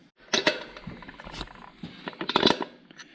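A 76 mm seal driver rams a seal into a Jeep TJ Dana 44 axle housing, giving a few sharp metallic knocks and scraping clunks in quick, irregular bursts close by.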